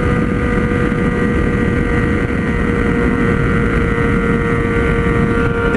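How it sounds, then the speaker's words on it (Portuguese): A Yamaha XJ6 motorcycle engine runs with a loud, steady, unbroken roar, close to the microphone with some wind buffeting and no talking. "ronco gostoso pra caramba de se ouvir"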